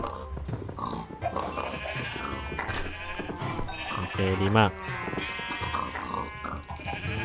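Sheep bleating in a hardcore Minecraft world, several wavering bleats from the farm animals over steady background sound, while someone talks over them in between.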